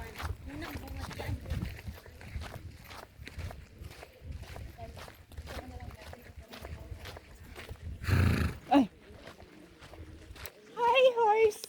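A horse on a hiking trail at Petra, Jordan, with scattered hoof clip-clops on hard ground and occasional snorts, close by, mixed with people chatting nearby.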